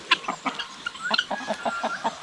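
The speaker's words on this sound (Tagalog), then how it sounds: "Yung mga manok natin." Hens on a small farm cluck in a steady run of short, close calls, one after another, with no voices.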